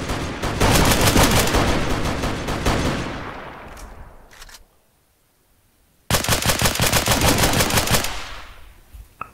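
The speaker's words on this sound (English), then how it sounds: "I'm just like firing blindly." Sustained automatic gunfire in ARMA 3, loud close bursts of rapid shots that fade out, a short lull, then another long burst of fire.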